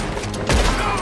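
A gunshot from Red Dead Redemption 2, a single loud burst midway through, followed by a brief ringing tail.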